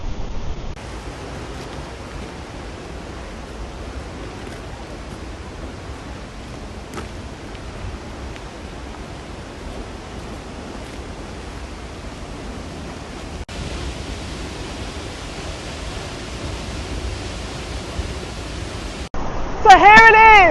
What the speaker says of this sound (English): So here it is, Europe's tallest waterfall.